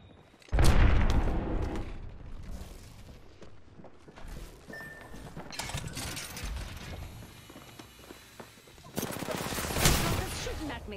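Gunfire from an Apex Legends match: a loud near burst opens, scattered shots and mechanical weapon handling follow, and a second heavy volley of rapid fire breaks out near the end.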